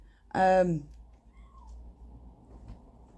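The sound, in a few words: cat meowing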